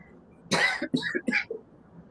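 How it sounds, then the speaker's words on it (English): A short coughing fit, several quick throaty bursts close by, tapering off into softer follow-up coughs. "I was just coughing."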